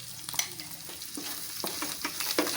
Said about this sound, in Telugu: కరివేపాకు కూడా మంచిగా ఫ్రై కావాలి